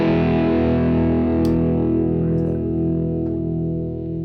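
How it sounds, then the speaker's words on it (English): Electric guitar played through effects pedals with distortion and heavy room reverb, sustained chords ringing steadily and loud throughout with a faint pick click midway. "Now it's got a lot of room sound on it, which is really cool"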